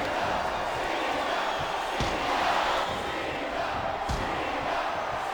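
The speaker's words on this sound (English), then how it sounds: "I think these superstars are getting some feedback from the crowd, JR." Arena crowd roaring and cheering steadily in the WWE SmackDown vs Raw 2008 video game during a Last Man Standing match, a continuous loud wash of noise with a couple of sharp thuds from the ring.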